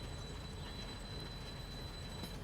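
A locomotive in the Train Simulator Pro USA game rolls along with a steady low rumble and faint wheel squeal, the noise continuous and unbroken, with no voices over it.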